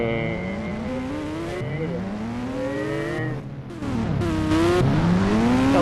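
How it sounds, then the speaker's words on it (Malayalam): Ghost Rider motorbike in a video game, its engine droning and rising in pitch with tire squeal and racing-car tones throughout, loud and continuous, with a brief dip partway through. "മറ്റേ ഗോസ്റ്റ് റൈഡറിന്റെ ബൈക്കിന് ഒരു പ്രശ്നം പോലില്ല കേട്ടാ."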